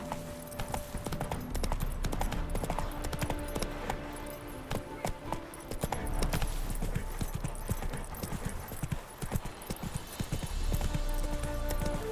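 Hooves of a horse in The Witcher 3 clip-clop at a steady gallop for the whole stretch, close and prominent over a busy game soundscape with brief snorts or whinnies.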